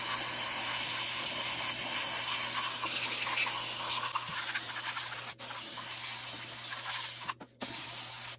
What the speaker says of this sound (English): I'll give this a little bit of a spray